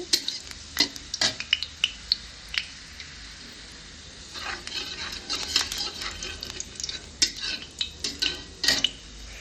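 Onions frying in a pan for a baby's fried rice, with soft sizzling under a run of stirring scrapes and light utensil clicks against the pan, fairly quiet and close.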